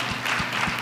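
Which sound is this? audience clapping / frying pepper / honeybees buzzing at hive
audience clapping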